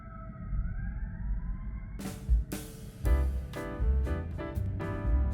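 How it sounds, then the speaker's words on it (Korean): A faint wailing siren rises and falls in the distance over low city rumble in Chicago at night in winter, then sharp clattering knocks and bangs cut in up close. "밤새 사이렌 소리가 자주 들렸다."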